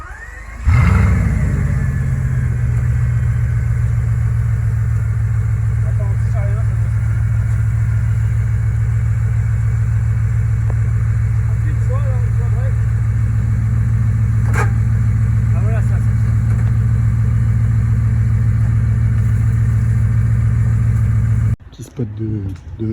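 A Ferrari 458 Spider's engine runs steadily in the rain at Deauville, a loud, continuous low drone with faint revving swells, close by for about twenty seconds before cutting off abruptly near the end.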